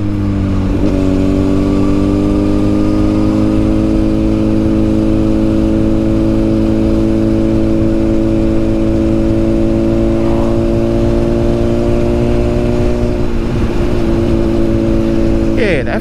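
A Honda CBR1000 Repsol motorcycle engine revs while being ridden, a loud steady tone that rises in pitch near the start and drops briefly before the end, with no one talking.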